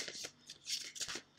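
A tarot card slides from a deck in quick papery swishes and flicks, soft and close, several brief rustles over a second and a half.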